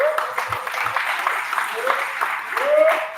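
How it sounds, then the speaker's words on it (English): An audience gives a round of applause at an indoor memorial gathering, a steady wash of many hands clapping with faint voices calling out under it, swelling slightly toward the end. "I'll give her a round of applause for her."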